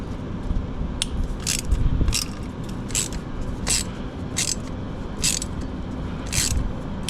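A ratchet works loose the tight exhaust header bolts on a Ducati Monster 937, giving a regular series of short metallic clicking bursts at a steady pace, close by, over a constant background noise.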